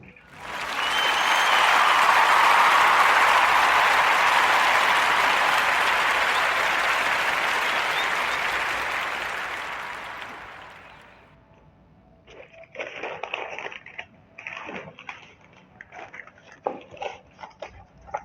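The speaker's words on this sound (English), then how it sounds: "join me in giving a warm narrative podcast round of applause for young Miss Yolanda Renee King." Sustained audience applause on a podcast, loud and dense for about ten seconds before tapering off, followed by scattered fainter noises.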